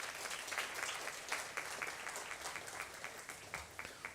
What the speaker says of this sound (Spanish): Un fuerte aplauso para ella, por favor.